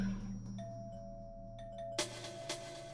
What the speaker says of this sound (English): he heard the distant sound of the front door chime.